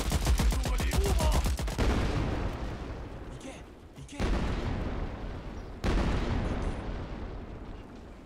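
Gunfire in the video game Ratten Reich: a rapid burst of shots, then two heavy blasts a couple of seconds apart, each ringing out and fading.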